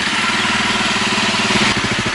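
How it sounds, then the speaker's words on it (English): A Honda CRF250L motorcycle engine idles to warm its oil before an oil change, a steady close thumping putter at even pitch with no talk. "you start off by idling the bike between 3 and 5 minutes to warm up the oil"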